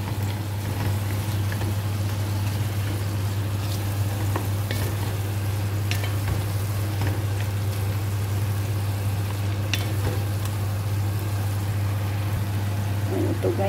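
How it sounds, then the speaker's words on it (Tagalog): Chicken curry with tomato paste sizzles and bubbles in a pan while a spoon stirs it, producing a steady frying hiss with scattered scraping clicks under a constant low hum. "Haluin natin."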